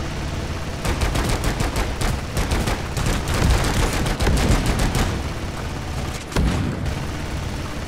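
Rapid bursts of gunfire in the video game Deep Rock Galactic, loud and dense, with rattling shots stacking over one another for several seconds during a salvage extraction mission.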